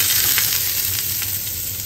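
Ajwain seeds sizzle and fry steadily in hot oil in a pan, a continuous close crackling hiss with faint stirring scrapes, no talking.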